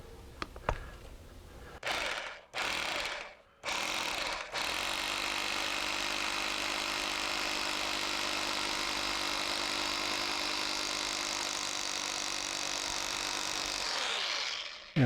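A hammer drill bores into concrete packed with rebar while mounting a MrCool mini split outdoor unit, starting in a few short bursts, then grinding steadily and loud for about ten seconds before stopping.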